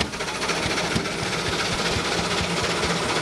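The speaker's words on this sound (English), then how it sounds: "The log hits the saw." Sawmill saw biting into a log on a carriage, a loud, dense mechanical roar with rough rhythmic churning, steady and close throughout.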